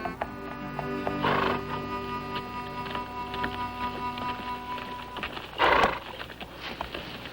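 A horse nearby, with a whinny early on and a sharper louder burst near the end over a background of faint tapping and steady tonal hum.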